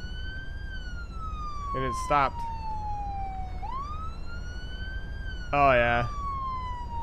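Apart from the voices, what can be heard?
ambulance siren in the video game Flashing Lights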